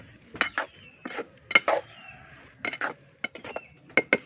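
Spice powder being stirred into a cooking dish, soft scraping and clinking of a spoon against the pot in irregular bursts, close and alone.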